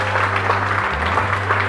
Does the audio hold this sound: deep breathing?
no